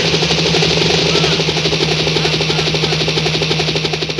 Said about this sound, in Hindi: पायलट हेलीकॉप्टर नीचे ला